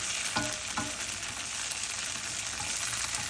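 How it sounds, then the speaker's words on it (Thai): Tofu fries in a pan until golden for a bean sprout stir-fry: a dense, steady sizzle throughout, with a couple of stirring knocks early on and no speech. "ทอดให้เหลืองเลยเพราะมันเหลืองอยู่แล้วมันก็ใช้ได้แล้วมั้ง"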